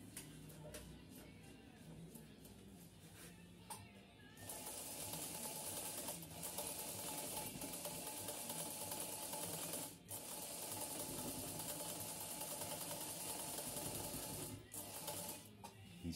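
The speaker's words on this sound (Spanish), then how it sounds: "Esta máquina está sonando muy bonito." A Triumph Deluxe Precision sewing machine stitching a decorative stitch: a steady, fast mechanical clatter that starts after a few quiet seconds and runs continuously with brief pauses, close and moderately quiet.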